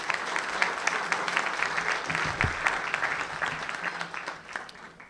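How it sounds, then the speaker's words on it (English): Audience applause for members of the Ho-Chunk Nation at a public event with a US congressman, steady clapping from a large crowd that sustains for several seconds at moderate distance, with scattered individual claps standing out. "So please give the Ho-Chunk, who are also present today, another round of applause."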